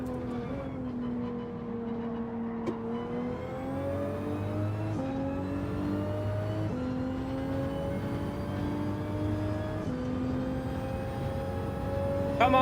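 A Toyota Supra engine races in Gran Turismo 7, revving up through the gears in repeated rising sweeps with brief drops at each shift, a continuous loud in-car drone with no talking.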